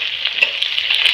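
Onion fries in a mix of rendered fat and oil for a rustic mutton curry, making a bright, close, continuous sizzle with small crackling pops, with no voices over it.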